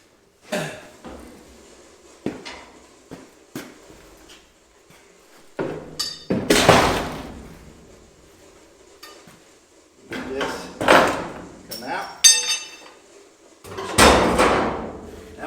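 Bolt being worked loose from the floor of a 1997 trailer, heard as a string of sharp metallic clanks and knocks, some isolated and some in louder clustered bursts, close by with quiet pauses between and no talking.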